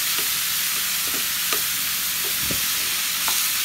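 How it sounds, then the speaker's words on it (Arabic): Onions fry with meat in a pot for a taro dish in tomato sauce, making a constant close hiss of sizzling broken by several scraping stirs and spoon knocks, with no talking. "هبتدي بقى اقلب عشان البصل بتاعي يفضل مع اللحمه"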